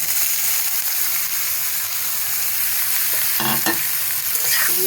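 Radish pieces fry loudly in oil with dried chilli and bay leaf, making a dense, constant sizzle. A few clattering scrapes of stirring come toward the end.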